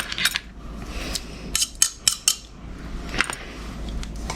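Utensil clinks against a bowl while Vietnamese fish sauce with garlic and pepper is stirred, a few sharp metallic taps and scrapes in quick bursts, close and fairly quiet.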